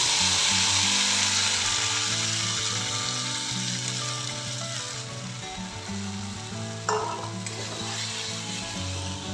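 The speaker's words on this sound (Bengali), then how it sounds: "তেল গরম হয়ে গেছে এখন দিয়ে দেব হিং পটলার ডালের পেস্টটা ঢেলে দেব" Pointed gourd lentil paste with asafoetida frying in hot mustard oil, a loud bright sizzle that settles gradually, with a brief clatter of a spoon against the pan near the end.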